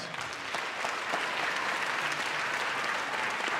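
Dense, continuous applause from an audience at a school fall band concert, honoring students, steady and fairly close, with no talking over it.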